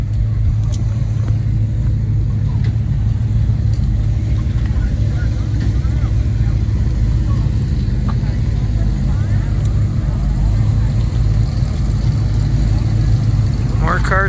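Steady loud engine rumble from several idling cars arriving and parking at an outdoor car show in Underwood, North Dakota, a continuous near drone filling the whole stretch with someone talking over it.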